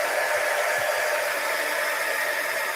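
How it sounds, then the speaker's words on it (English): A heat gun used for heat embossing blows with a close, loud, continuous whooshing hiss that stays steady for the whole short stretch, with no talking. "I'm going to go ahead and heat emboss these quick"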